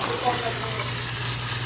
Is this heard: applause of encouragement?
no